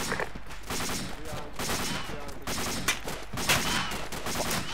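Gunfire crackles through a suppressing-fire and bounding training drill, with dense, overlapping volleys of shots running steadily throughout while people shout and talk over the noise.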